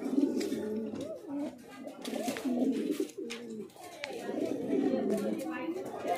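Several Lakka fancy pigeons, blue and white birds, give low throaty coos in a loft, the rolling calls repeating and overlapping throughout while someone talks over them.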